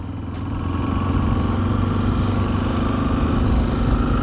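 A Honda XRE 300 trail bike, a model known for a cracked cylinder head, runs with a steady mid-pitched engine drone that swells in the first second and then holds at a constant, close, loud level.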